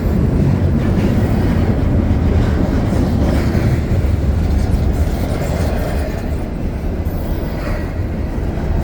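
A slow CPKC intermodal freight train passes close by at Dorval on a winter night, a loud, steady rumble and rolling clatter of railcars sustained throughout with no talk.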